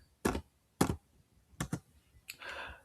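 Keystrokes on a computer keyboard while typing a task into a task app: a few sharp, separate taps in quick bursts, close and clear, ending in a short rattle of keys.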